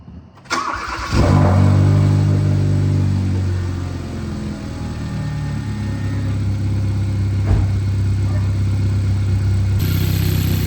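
A 2013 Hyundai Veloster Turbo starts with a quick cranking whir and catches, then settles into a loud, steady idle close by, with a faint click partway through.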